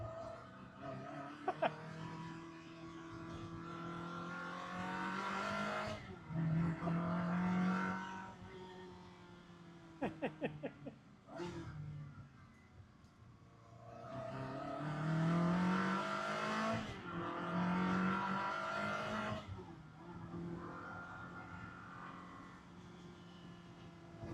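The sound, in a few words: Ferrari 360 Spider engine driving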